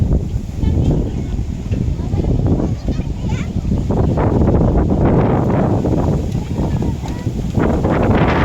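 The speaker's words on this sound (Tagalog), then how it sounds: "Ah, lakas ang hangin." Strong wind buffets the microphone in heavy rumbling gusts, with voices talking underneath.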